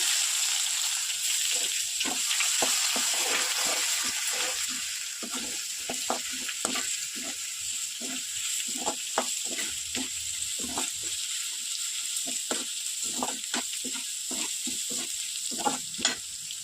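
Ginger frying in oil in a pan for a home-style dish, a steady close sizzle broken by a quick run of stirring scrapes and taps from a utensil, with no one speaking.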